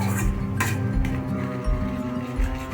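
A metal lid is lifted off a pot of fish curry and the curry is stirred, giving close clinks and scrapes of metal over a steady low kitchen hum.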